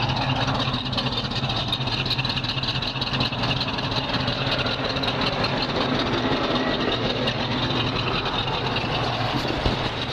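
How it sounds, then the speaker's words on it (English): A car engine idles steadily and loudly up close for about ten seconds, a continuous rumble with a faint lumpy pulse from an aggressive cam, and no talking. "You can hear a little cam action."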